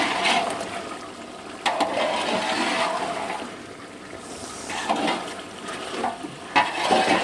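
Chicken browning in a pot for Punjabi chicken yakhni pulao, with a steady close sizzle and occasional louder stirring or scraping bursts, no talk.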